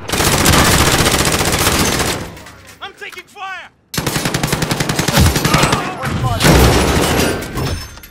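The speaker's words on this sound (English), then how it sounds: "I'm taking fire!" Call of Duty Modern Warfare Warzone gunfire comes as loud, rapid automatic bursts: a long stream of shots, a short lull with chirping tones, then heavy sustained firing again with a few deeper thuds mixed in.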